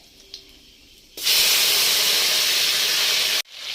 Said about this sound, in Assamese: সেইখিনি তেল ৰৈ গৈছিল, তাতে পাঁচফোৰণ কেইটামান দিছোঁ।